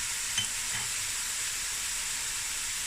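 Halved mild chilies drop into a pot of winter stew with fall-off-the-bone meat and green vegetables, setting off a steady sizzle and stir with one soft plop near the start, close and alone.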